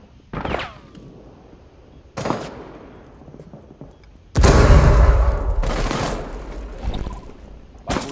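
Sniper rifle fire in Rainbow Six Siege on the Skyscraper map, several sharp, loud cracks with ringing tails spaced a second or two apart, then a long rumbling blast-like roar that fades out.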